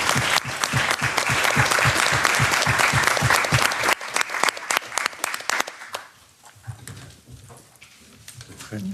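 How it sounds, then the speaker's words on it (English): Applause at a Greens meeting of European Parliament members on PFAS and pesticides, starting as full clapping with a rhythmic pulse, thinning to scattered claps, then fading into quiet room sound. "Big round of applause."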